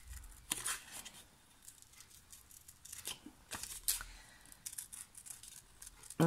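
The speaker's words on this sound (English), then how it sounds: "It's much easier to turn the paper than it is to turn the scissors." Close snipping of scissors through paper, several irregular cuts with crisp crinkly bursts and short pauses between them.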